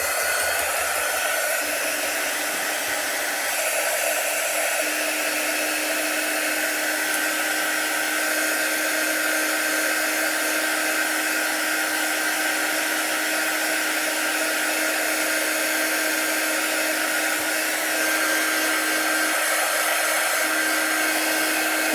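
A hair dryer drying craft paint on a wooden pumpkin, a loud, steady, close whirring blast with a high whine that holds constant with no talk.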